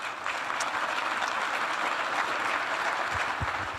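Audience applause at a Winnipeg Chamber of Commerce discussion, a steady wash of many hands clapping, fairly faint and distant, running throughout.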